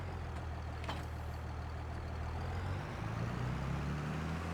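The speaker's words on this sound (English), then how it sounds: "Sound isn't that great. The engine note" A steady tractor engine drone in Farming Simulator 22 with a low rumbling hum, its pitch rising slightly partway through, heard alone at moderate loudness.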